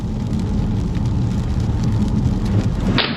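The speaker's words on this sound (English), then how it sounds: "you can see the driving rain" Driving rain pelting a car on a road trip around the Isle of Skye in Scotland, a steady dense broadband patter with low rumble throughout, ending abruptly.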